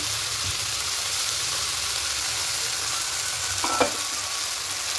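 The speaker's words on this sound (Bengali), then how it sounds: "পেঁয়াজ আর টমেটোটা ভাজা ভাজা হয়ে এসছে। ঠিক এই সময়তে আদা আর রসুনের পেস্টটা দেবো।" Ginger-garlic paste sizzles in a pan with fried onion and tomato for a chicken curry, a steady hiss with a brief stirring scrape near the end.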